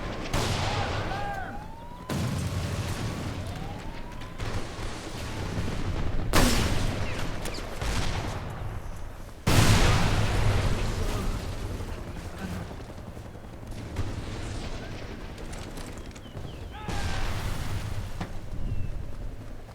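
Repeated explosions in Mercenaries 2 during combat around towers, a series of loud booming blasts with rumbling tails, spaced every few seconds, alongside gunfire-like cracks.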